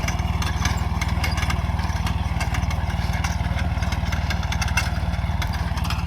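A mini tractor works a farm field, its small engine chugging in a fast, even putter that stays loud and close throughout with no letup.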